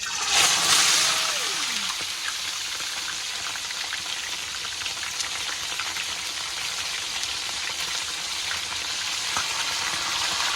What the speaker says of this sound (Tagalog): Magaprito tayo ng isda.